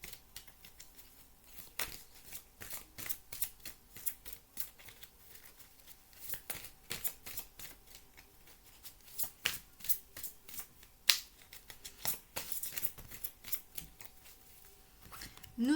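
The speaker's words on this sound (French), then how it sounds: "On va prendre une dernière carte." Oracle cards being shuffled by hand before one is drawn, a close run of quick papery riffles and flicks in uneven bursts, continuing steadily with no voice over it.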